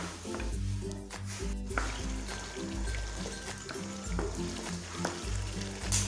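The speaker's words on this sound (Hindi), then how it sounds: "अरबी भी अच्छे से नरम हो गई है और चिकन भी। इसको मज़ीद 1 मिनट के लिए भून लेते हैं।" Taro root (arvi) and chicken frying in masala in a pan, a steady loud sizzle with repeated stirring scrapes throughout, no talking.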